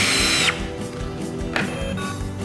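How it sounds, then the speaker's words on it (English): A Festool T-18 drill drives a screw with its clutch engaged, giving two short loud whirring bursts close by, each ending abruptly, separated by a quieter pause. "So there it is with the clutch engaged"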